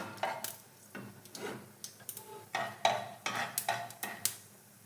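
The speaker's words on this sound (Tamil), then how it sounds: "எண்ணெய் காஞ்சிருச்சு கடுகு உளுந்த பருப்பு போட்டுக்கலாம் கொஞ்சம் பொரியட்டும்" Mustard seeds and urad dal frying in hot oil, with faint crackling and a series of sharp utensil taps and scrapes against the pan in an uneven rhythm.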